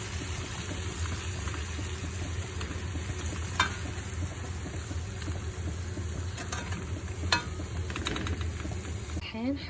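Fried chicken sizzles steadily in a pan as it goes back in for a classic chicken karahi, with a continuous close frying hiss and a few sharp scraping stirs.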